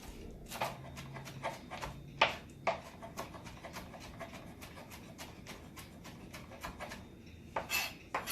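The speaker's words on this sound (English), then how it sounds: "So I've got a nice bunch of cilantro. I'm going to go ahead and chop it up, stems and all." A kitchen knife chops a bunch of fresh cilantro, stems and all, on a cutting board, giving soft, irregular thuds and scrapes spread across the clip, with a few sharper knocks standing out.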